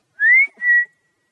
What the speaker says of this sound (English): That's their whistle, by the way.